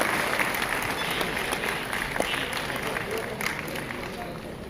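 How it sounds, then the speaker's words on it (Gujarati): Audience applause at a Bhavnagar municipal corporation civic event with Gujarat's Chief Minister: a steady, dense wash of clapping from a large crowd, continuous throughout, with a voice speaking over it. "આપણે સૌ તાળીઓના નાદથી આ ક્ષણને વધાવતા રહીએ"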